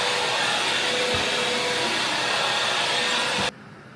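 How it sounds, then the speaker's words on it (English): A vacuum cleaner runs at home with a loud, steady, close roar that cuts off abruptly near the end. "I should really vacuum down here."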